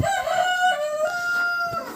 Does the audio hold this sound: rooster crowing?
yes